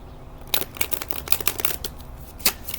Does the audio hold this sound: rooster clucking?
no